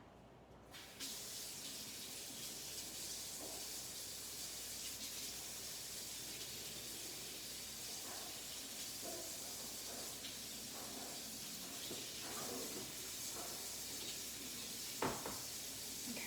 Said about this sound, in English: So I'm just gonna run my water and get it hot.